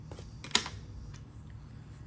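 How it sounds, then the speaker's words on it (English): A single sharp snip of scissors cutting crochet yarn, loud and close, over a quiet background. "Cut your yarn,"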